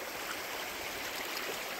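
Glacier-fed creek near Seward, Alaska, a cold snowmelt stream rushing in a steady, close hiss of broadband water noise with no pauses.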